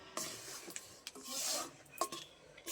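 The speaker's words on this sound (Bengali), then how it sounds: "তাই আমি একভাবে নেড়ে যাচ্ছি যাতে না লেগে যায়" A spoon scrapes and rubs through thickening ripe mango pulp in a pan, making close, dry rasping strokes and soft clinks in an irregular rhythm with no talking.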